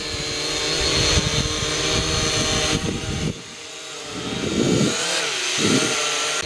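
A small camera drone in flight, its propellers giving a steady, harsh buzzing whine that dips briefly, then swells and wavers again. No voices.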